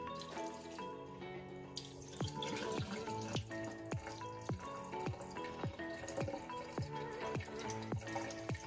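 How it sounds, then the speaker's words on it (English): Dirty rice-rinsing water poured off from a pot of rinsed rice, heard as a faint running flow with a steady series of clinking drips and taps. "And I'm going to pour this water off."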